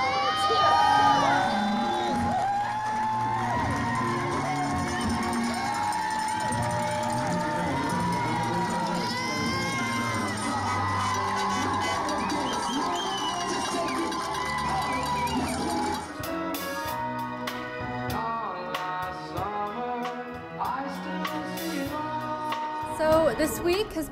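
High school crowd cheering and shouting at a send-off before a big game, a dense roar of voices and whoops that swells and shifts, with music and clapping rising toward the end.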